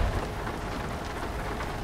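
Heavy rain and rumbling thunder in the driving game Euro Truck Simulator 2, a dense steady downpour with deep low rumble throughout, no talk.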